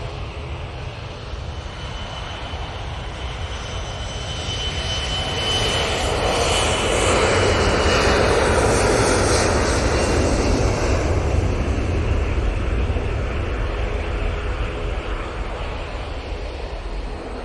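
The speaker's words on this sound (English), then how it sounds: "E175 going back to Amsterdam Schiphol. It is lined up and it's ready to go already." Embraer E175 jet airliner bound for Amsterdam Schiphol roars at Manchester Airport, its engine rumble swelling to a loud peak midway and then easing as it moves off, steady throughout.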